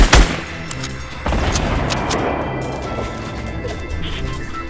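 Gunfire in the video game Fortnite, a loud sharp blast at the start followed by a dense, sustained crackling barrage of shots and impacts that carries on at steady volume.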